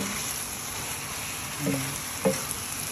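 Chicken pieces frying in a pan, a steady, moderately quiet sizzle with a couple of brief scraping or stirring knocks partway through.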